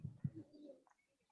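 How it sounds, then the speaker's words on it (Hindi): A pigeon coos a few times, close and fairly soft, with low rounded pulses at the start followed by a brief trailing murmur. A faint breeze sound lies underneath. "अभी कबूतर की आवाज आ रही है"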